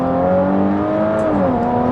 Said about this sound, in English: I then place my left foot on the brake as hard as I can, dump my foot on the clutch and go.